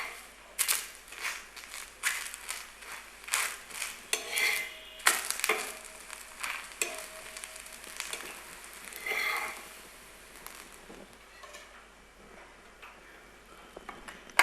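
Moong dal dosa cooking on a pan and being flipped, soft sizzling with irregular scraping and tapping of a spatula in bursts, fading quieter toward the end, no talk.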